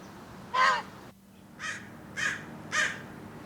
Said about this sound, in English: What are those crows doing, huh?